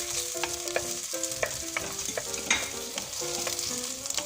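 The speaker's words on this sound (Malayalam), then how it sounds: "അതിലേക്ക് ഒരു തക്കാളി കൂടി അരിഞ്ഞത് ഇട്ടൊന്ന് വഴറ്റിയെടുക്കാം." Chopped tomato and onion sauté in a pan with a steady sizzle, broken by repeated scraping stir strokes, close and continuous with no talking.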